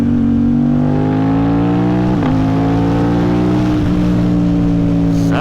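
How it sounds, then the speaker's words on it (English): Kawasaki ZX-4RR or Aprilia RS660 sport bike with an aftermarket exhaust, engine droning loud and steady while riding, pitch rising and dipping briefly around shifts, no talk. "This thing sounds great with this exhaust."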